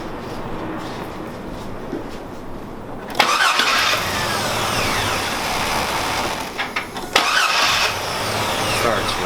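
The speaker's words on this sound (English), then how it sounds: "Alright, let's go ahead and try to start it up." A 2003 Chevrolet S10 Blazer engine cranks and fires up right after a starter replacement, a sudden loud burst settling into a steady close idle with a second surge partway through.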